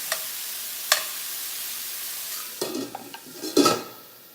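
Cauliflower roasting and cooking in a pan gives a soft continuous sizzle, broken by a few louder scrapes and stirring clatters near the end, with no talk.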